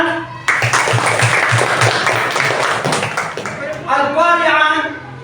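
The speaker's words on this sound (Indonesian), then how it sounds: "Tepuk tangan." A class of children claps together in a classroom lesson, a dense burst of applause lasting about three seconds before voices take over and speak or chant.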